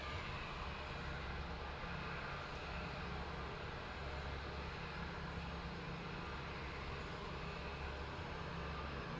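An aircraft departing Lisbon Airport roars steadily with a broad, distant engine rumble that stays constant and fairly faint, with no voices.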